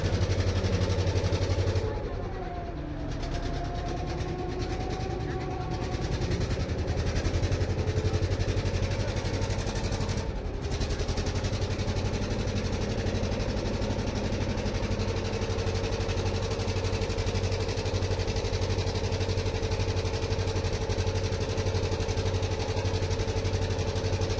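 A motor launch ferrying passengers across a river runs with a continuous mid-pitched engine drone and vibration, steady and close for the whole stretch with only a brief dip near the start.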